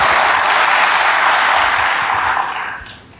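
A church congregation claps loudly and steadily in a dense wash of applause that holds for a few seconds, then fades out near the end.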